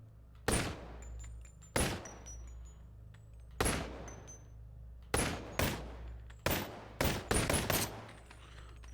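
Gunshots in the VR game Boneworks: about ten sharp, loud bangs in irregular bursts, some fired singly and others in quick doubles and triples near the end, each with a short decaying tail over a low steady hum.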